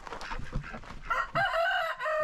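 A nearby rooster crows loudly after some clucking and rustling, the crow drawn out and ringing over the last second.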